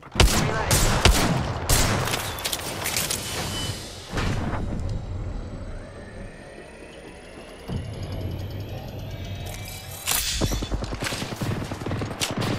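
Rapid bursts of gunfire crackle through an Apex Legends firefight, sharp close shots in quick clusters with short pauses between volleys and faint mechanical clicks, no voices.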